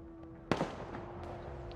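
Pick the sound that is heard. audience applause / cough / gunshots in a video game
gunshots in a video game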